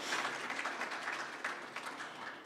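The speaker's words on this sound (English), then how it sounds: "How many of you were here in 2014? Round of applause." An audience at a welcome center grand opening applauds, a steady crackling wash of many hands clapping, moderately distant and fairly soft, with no talking over it.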